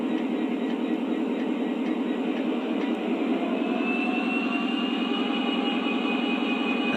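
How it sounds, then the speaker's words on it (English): A Lionel Legacy Norfolk Southern SD60E model locomotive at its lowest RPM setting gives a steady, continuous diesel-style drone with a pulsing rumble, holding even and fairly loud throughout with no talk over it. "This is RPM level 1."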